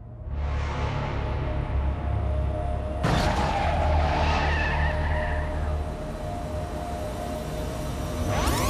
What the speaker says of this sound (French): 2 voitures entrent en collision dans la ville de Vladivostok